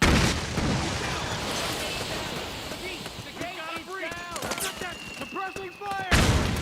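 Suppressing gunfire in Metal Gear Solid 4: Guns of the Patriots, with rapid shots and booming blasts mixed into game music and voices, louder at the start and again at the end.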